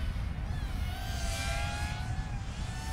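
A KababFPV 1S Babytooth Stealth toothpick FPV drone flies nearby, its tiny motors giving a thin whining buzz that wavers in pitch over a steady background rumble.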